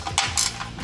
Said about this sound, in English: we're going to take our 15mm ratcheting wrench and loosen this top bolt here